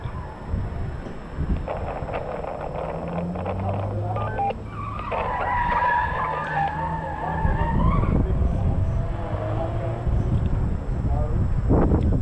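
A Subaru gymkhana car works through a slalom toward a figure-8, tyres squealing in rising and falling skids as the engine note swells nearby, with a commentator talking over it and some wind buffeting.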